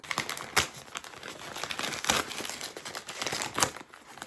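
Wrapping on a birthday gift package crinkles and rustles as it is opened, with several sharper crunches standing out from soft, close, continuous handling noise.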